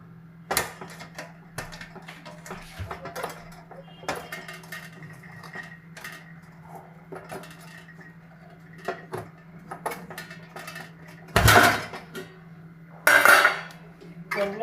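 Steamed idlis being pried hot out of a metal idli mold, giving scattered light clinks and scrapes of metal, with two louder clattering bursts of the stand and plates near the end.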